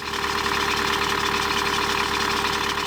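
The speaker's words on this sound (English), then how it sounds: "Let's go and fire up the engine." A boat's engine runs at a steady idle, close and loud, with a constant low throbbing rumble and mechanical knock and no voices.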